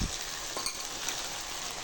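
Ginger and garlic frying in hot oil give a steady, close, hissing sizzle after a soft thump at the start, with no talking.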